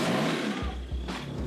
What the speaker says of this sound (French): Là, c'était le temps de faire entrer la voiture chouchou de Jean-Pierre, sa Renault Gordini bleue